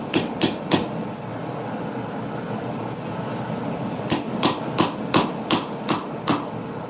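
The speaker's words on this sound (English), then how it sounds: "we're going to give her a couple taps on the anvil" A hammer tapping the spine of a hunting knife blade on an anvil, with three quick ringing metallic taps, a pause, then a steady run of about eight more, close and clear.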